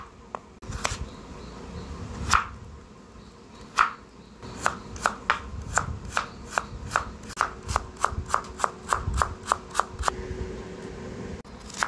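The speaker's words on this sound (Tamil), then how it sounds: "கேரட் 1 சின்ன சின்னதாக கட் பண்ணிக்கலாம்." A knife chops a carrot into small pieces on a board, with sharp, close, rapid chops that settle into a fast, steady rhythm after a few slower strikes.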